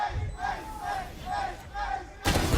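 Esports arena crowd roaring and chanting at a Valorant match between LOUD and KRU in the VCT Americas Kickoff, a loud sustained wall of massed voices that surges even louder near the end.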